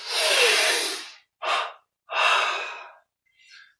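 Deep breaths during a yoga breathing meditation: a long inhale, a short sniff, another long breath, then a faint brief exhale, all close and isolated in silence.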